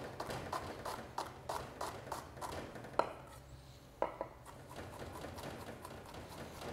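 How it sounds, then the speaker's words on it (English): A knife finely minces shallot on a cutting board, steady rapid chopping taps in an even rhythm, close and moderately quiet, with a couple of sharper knocks partway through. "we're just gonna just give this a little real fine mince"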